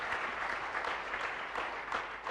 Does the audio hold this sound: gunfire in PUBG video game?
no